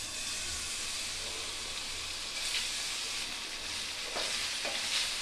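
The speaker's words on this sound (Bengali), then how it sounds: "পনির এইভাবে করে ভেজে নিতে হবে" Paneer frying in a spoonful of oil in a pan, a constant loud sizzle with faint stirring scrapes, close and uninterrupted, no speech.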